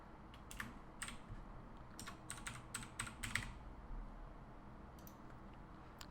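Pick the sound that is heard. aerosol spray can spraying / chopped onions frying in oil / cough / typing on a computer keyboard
typing on a computer keyboard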